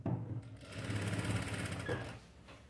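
A sewing machine stitches thread piping onto fabric, giving a continuous rapid mechanical chatter that swells and then fades, heard close and moderately quiet without talk.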